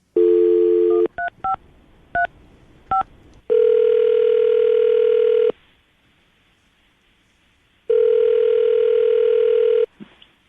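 A telephone dial tone sounds loud and steady, broken by a quick run of touch-tone dialing beeps, then long ringback tones with a silent gap between them, all without any voices.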